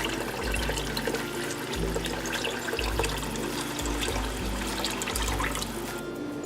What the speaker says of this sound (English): we'll be adding enough water to almost fill the pot